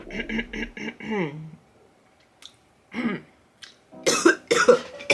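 A person sick with COVID-19 gives several short rough coughs and clears their throat, followed by a pause and a few more wet throat-clearing sounds, close and fairly loud.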